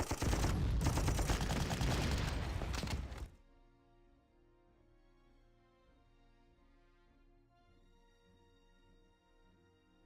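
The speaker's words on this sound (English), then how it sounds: "Oh wow, that was a really effective bombing raid" Bombing raid in the Panzer Corps strategy game, a loud dense burst of explosions and gunfire lasting about three seconds, then cutting off abruptly to quiet background music.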